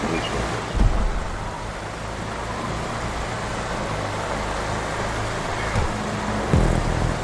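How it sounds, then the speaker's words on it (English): Steady rain hisses continuously, a dense wash of noise close by with a few soft thumps and brief louder swells. "I apologize for the rain"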